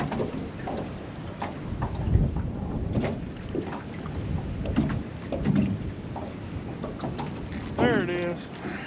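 Wind gusting over a lake on a March day of crappie fishing at Mark Twain Lake, a steady rushing roar broken by knocks and handling thumps, with a brief squeaky reel-like sound near the end.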